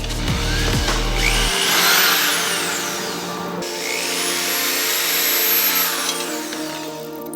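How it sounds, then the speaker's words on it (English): A power drill bores holes into the thin front bumper of a Subaru WRX to mount Aeroflow Dynamics canards, two sustained whirring bursts rising in pitch as the bit cuts through, loud and close. "you're still drilling into your car at the end of the day"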